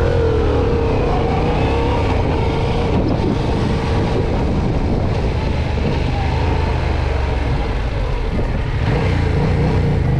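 Motorcycle engine on a licence exam riding course, held at a steady loud drone with slight changes in revs, heard close and continuously under wind noise.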